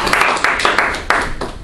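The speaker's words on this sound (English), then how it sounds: "Give her a round of applause." Audience applause in a communication workshop, a short, loud burst of clapping lasting under two seconds, with uneven individual claps standing out.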